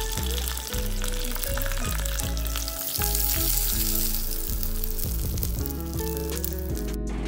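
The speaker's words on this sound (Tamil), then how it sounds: "கொஞ்சம் கடுகு, உளுந்தம்பருப்பு, கருவேப்பில போட்டு தாளித்து சட்னி கூட ஆட் பண்ணிடுங்க" Mustard seeds, urad dal and curry leaves temper in hot oil, a loud dense crackling sizzle that runs nearly unbroken with a few dull knocks of a pan or spoon, stopping abruptly at the end.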